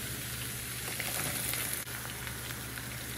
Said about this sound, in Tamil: இதெல்லாத்தையும் நான் தாளிக்கிறேன்